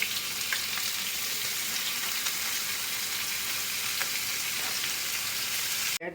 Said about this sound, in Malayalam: കൊഴുവയൊക്കെ വറുത്തു, എല്ലാം റെഡിയായി.